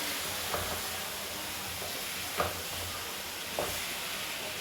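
Tomatoes and pulao masala fry in a pot for chicken pulao, a steady hiss of sizzling broken by three soft scrapes of stirring spaced across the stretch, with no talk.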